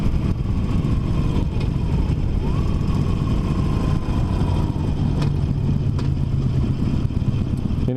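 A Harley-Davidson 48 motorcycle runs steadily throughout, its low engine rumble continuous and fairly loud, with tonal pitch sweeps rising and falling over the top as the bike rides along.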